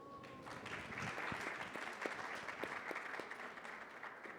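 Audience applause fills a conference hall at an economic forum session on AI, a steady wash of many hands clapping at moderate level with no talking over it.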